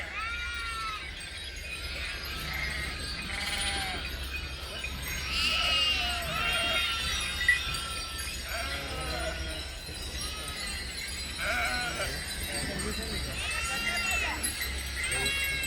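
Sheep from a large migrating herd at an evening camp in Jadhavwadi, Pune, bleat repeatedly in overlapping calls, some near and some farther off, amid a steady outdoor hum and occasional voices.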